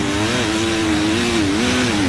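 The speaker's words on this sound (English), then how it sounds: "you can really hear how much the engines labor as well" Motocross bike engines labour and rev on a rough, bumpy track, a steady loud drone with wavering pitch that rises and dips continuously throughout.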